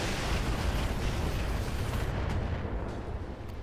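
MML missile weapons fire in the Roguepoint game, producing a loud, dense roaring rumble of launches and blasts that holds steady, then thins out near the end.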